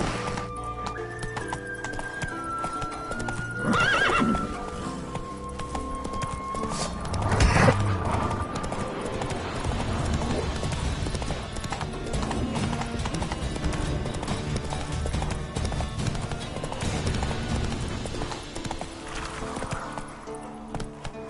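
Hooves of the horse Roach clip-clop at a gallop through The Witcher 3, steady and fairly close, mixed with game music and effects and a brief whinny, with no talk.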